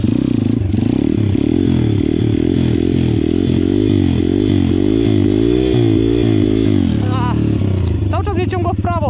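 Loncin 125 motorcycle revving hard during wheelie practice, loud close engine surging up and down in repeated rising pulses, with faint speech near the end.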